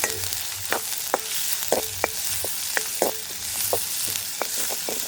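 Steady crackling sizzle of onions frying in hot oil for jackfruit curry, with repeated sharp stirring clinks and scrapes of a utensil against the pan.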